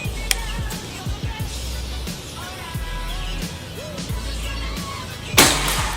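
A PCP Predator air rifle with an upgraded slug barrel fires a slug outdoors, a single sharp crack near the end, following a backdrop of steady low engine-like hum and scattered ticks.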